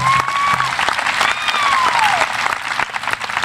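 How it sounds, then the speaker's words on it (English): Audience applause fills a high school commencement ceremony, a dense, sustained wash of many hands clapping at steady loudness, with faint voices and a brief whistle-like tone riding over it. "A round of applause for those athletes."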